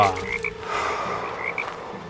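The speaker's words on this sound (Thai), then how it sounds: "ตามเสียงกบเขียดที่ร้องดังระงมไปทั่ว" A chorus of frogs in rice fields croaks loudly and continuously, overlapping calls filling the air with a steady, pulsing drone.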